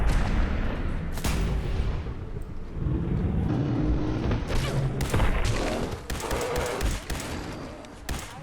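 Gunfire in Fallout 4 during a fight: repeated sharp shots crack out among rumbling game noise, several loud bursts clustered toward the end, with no speech over them.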